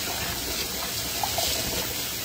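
Tap water streams steadily as a tin container is rinsed out, a continuous close splashing rush with a few small knocks and no talking.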